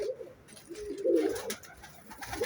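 Two pigeons coo in low, soft, throaty phrases close by, with faint background rustling and no clear talking.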